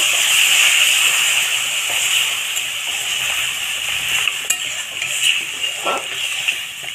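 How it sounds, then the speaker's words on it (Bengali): Loud steady sizzling hiss as water hits a hot pan of lightly fried vegetables, fading slightly over time with crackling pops near the end. "তো এর মধ্যে জল দিয়ে দেব"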